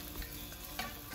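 A pupusa meets a hot griddle with a steady, soft sizzle and faint frying crackle throughout, quiet and close, with no voices.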